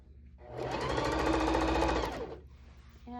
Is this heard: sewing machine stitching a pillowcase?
yes